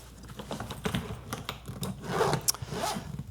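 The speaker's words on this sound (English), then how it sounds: "Zippers work nicely." Zippers on a Level 8 Adventurer 20-inch carry-on bag are pulled in quick close-up strokes, a series of rasping, ticking zips that grow louder toward the end.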